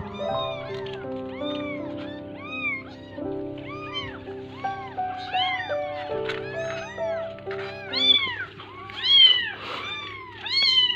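An abandoned kitten left at a market cries for its mother, repeated high, rising-and-falling meows coming one after another and growing louder, over a low steady background drone.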